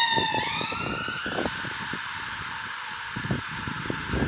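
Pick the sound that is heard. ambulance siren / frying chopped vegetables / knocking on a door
ambulance siren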